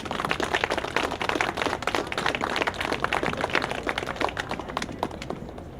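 Audience applause at an outdoor Tall Ships press conference, a dense, steady patter of many hands clapping for a few seconds at moderate loudness with no voices.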